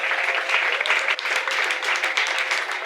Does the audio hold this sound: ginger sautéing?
no